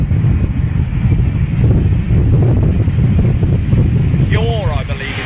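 Strong crosswind buffets a microphone at London Heathrow Airport, a loud continuous low rumble and roar throughout, with a brief higher whine near the end.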